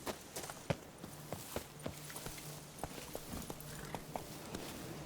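Roach, Geralt's horse in The Witcher 3, clops along at a steady walking pace, with hooves striking firmly and fairly close. Faint ambient sound lies underneath.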